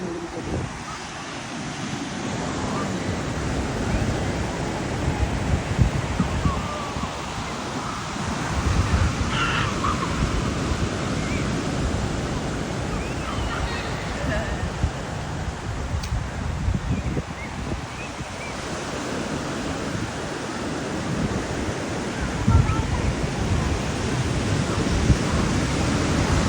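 Ocean surf at a beach, a steady broadband wash of breaking waves that fills the whole stretch, with occasional crow caws and faint wind over the constant roar.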